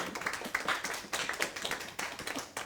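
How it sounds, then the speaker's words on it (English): A small audience in a room at a watercolour artist workshop gives a short round of applause, a sparse patter of individual claps close by, fairly quiet and irregular. "For the people in the room, can we just give Marilyn a little round of applause"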